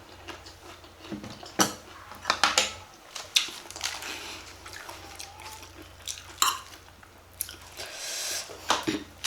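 Crunchy chewing of crisp, sweet fresh guava during a spicy eating show, with repeated close bites and mouth sounds spread across the clip and no speech.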